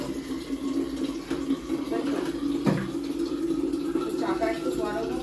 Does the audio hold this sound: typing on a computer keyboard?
no